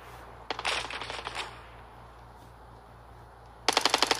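Rapid video game gunfire in a tournament match, a close burst of quick shots, a quieter pause, then another sharp rattling burst at the end.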